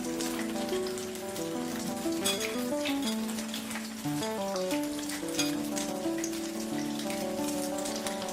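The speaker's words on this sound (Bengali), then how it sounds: "ব্রেডটাকে ভালো করে ডিমে ভিজিয়ে নিলাম এবং তেলে দিয়ে দিলাম" Bread slices soaked in egg fry in oil for French toast. A soft, crackling sizzle carries on steadily beneath louder melodic background music, with no speech.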